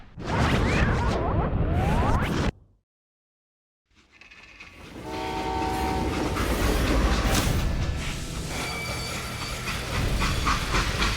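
A freight train runs on rails in the Call of Juarez: Gunslinger video game: a loud rolling rumble cuts to silence, then returns with a sustained horn blast over continuous rail clatter.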